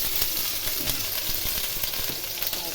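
Onion paste fries in a pan for an egg and potato curry, a dense close sizzle with crackling and intermittent spatula scrapes and taps throughout.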